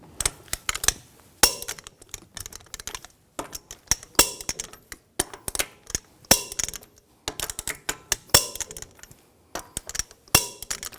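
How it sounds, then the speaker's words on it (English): A torque wrench tightening lug nuts on the rear wheel of a 2021-2023 Jeep Grand Cherokee L to 130 foot-pounds, heard as a string of sharp close metallic clicks and ratchet ticks in irregular bursts with short pauses between nuts. "Now we're going to torque the lug nuts to 130 foot-pounds in a cross pattern to tighten the wheel down evenly."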